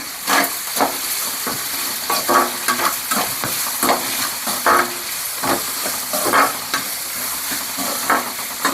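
Onions fry in hot oil for a Tamil kara kuzhambu, a loud, continuous sizzle with a steady hiss, punctuated by rhythmic scrapes and knocks of a ladle stirring the pan, with no voices.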